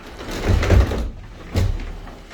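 A house door slides open with two low rumbling pushes, the track sounding a little jumpy, heard close and without talk.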